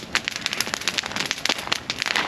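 A campfire warming leftover pizza gives a brief burst of sharp, close crackles and pops in quick irregular succession.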